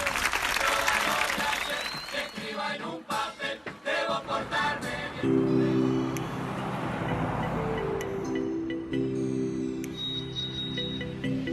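A large crowd of around five thousand applauds a tablado, an outdoor carnival stage show in Uruguay, with dense, loud clapping for about five seconds before it thins and gives way to steady humming tones under a murmuring crowd.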